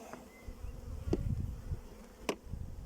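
Honey bees buzz softly around a hive, with a few sharper buzzes as individual insects fly close past, faint overall and with no voices.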